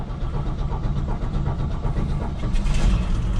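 A pickup truck's 292 inline-six engine turns over and starts, running steady and close in a continuous rumble with a heater fan blowing.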